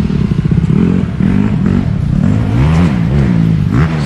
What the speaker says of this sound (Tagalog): So ang motor niya po is CRF 150.